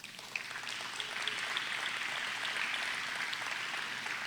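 A church congregation applauding the Lord during a sermon, a sustained, even roar of many clapping hands that swells slightly at the start and holds steady, moderately distant and without talk.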